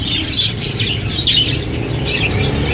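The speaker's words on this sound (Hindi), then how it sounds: "ऑस्ट्रेलियन तोते" A flock of Australian parrots in a bird shop, chirping and tweeting constantly over a dense, busy background hum of the room.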